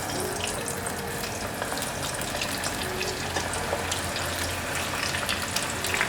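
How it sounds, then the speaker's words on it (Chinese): Sweet potato and king oyster mushroom balls deep-fry in hot oil in a small pot, giving a steady, dense hiss and crackle throughout with no talk. "油热了，放进来炸。"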